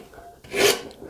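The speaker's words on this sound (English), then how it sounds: "So now that I've basically gotten rid of everything that I need to get rid of with this massive heavy rasp" A massive heavy rasp scrapes once across a wooden hand plane tote, a single short coarse stroke that swells and fades, close up.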